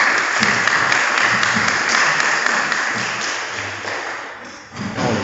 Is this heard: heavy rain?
no